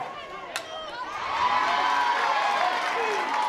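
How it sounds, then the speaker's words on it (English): Crowd at an NCAA softball game between LSU and South Carolina cheering and shouting, swelling from a moderate murmur into a loud, sustained roar across the stands, heard distantly on a sunny day. "Both crowds fired up now."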